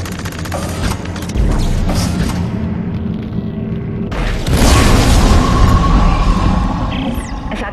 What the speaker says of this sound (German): Die explodieren, wenn sie zu heiß werden.